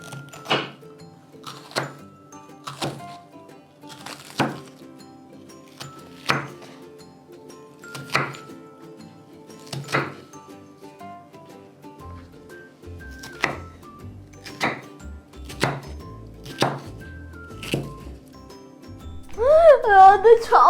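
An onion chopped with a very sharp knife on a board, a steady series of crisp thunks spaced about a second apart, close and clear, with a brief tonal sound at the end.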